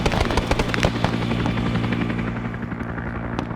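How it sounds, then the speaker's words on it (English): A helicopter door gun hammers out rapid bursts in a video game rescue mission over Hue City, sharp and close over the steady thudding drone of the rotor. "He's moved to the chopper gun to cover him"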